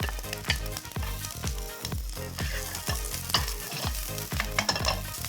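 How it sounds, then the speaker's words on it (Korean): Green onion and garlic stir-fried in a little oil for typhoon shelter chicken wings, a continuous sizzle broken by rhythmic, evenly spaced scrapes of a spatula against the pan, roughly two per second, up close. "파랑 마늘을 볶아주세요"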